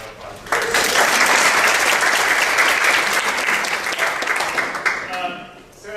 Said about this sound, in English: I think we deserve a round of applause for